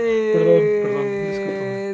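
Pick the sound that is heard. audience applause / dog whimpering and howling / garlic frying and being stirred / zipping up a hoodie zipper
dog whimpering and howling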